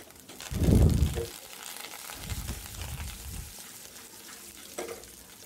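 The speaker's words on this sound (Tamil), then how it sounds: "இஞ்சி இது கொஞ்சம் கருவேப்பிலை ஆட் பண்ணி நம்ம வந்து கொஞ்சம் வதக்குறோம்" Ginger, garlic and curry leaves fry in hot oil for tomato rice, a continuous sizzle with low rumbling bursts as the pan is stirred and handled, near and fairly loud without speech.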